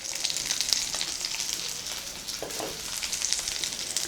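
Shallots with ginger-garlic paste sautéing in a pan for a goat brain fry make a soft, continuous crackling sizzle with scattered spatters, fairly faint and without talk.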